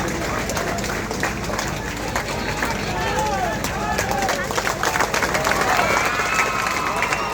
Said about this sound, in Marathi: फक्त टाळ्या.